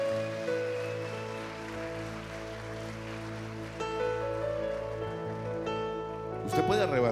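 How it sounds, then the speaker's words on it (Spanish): A church congregation applauds during a sermon, a soft, rain-like patter of clapping under sustained keyboard chords. "dale un aplauso al Señor entonces."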